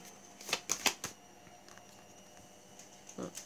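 Tarot cards shuffled and drawn during a reading: a quick burst of crisp riffling flicks and snaps early on, then quiet, with one softer rustle near the end. Close and fairly faint, with no talking.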